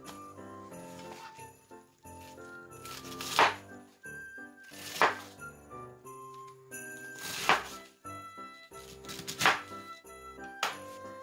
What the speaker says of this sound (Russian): Нарезаем вот на такие кусочки. Вот на такие лепестки.